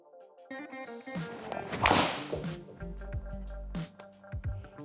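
A single sharp swish and crack of a Titleist GT driver striking a golf ball, fairly close, with a brief rush of air, then quiet outdoor ambience.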